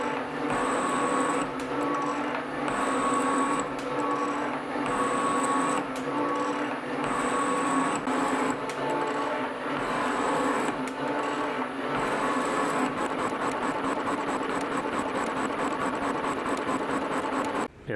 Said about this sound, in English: Thanks to that big old high-speed steel cutter, this thing is looking just awesome.